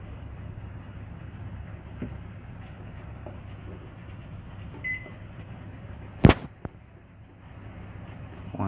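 A 1.3 kW microwave oven runs at full power on a DIY 48 V inverter, giving a steady low electrical hum and drone, interrupted once by a sharp loud crack followed by a smaller pop.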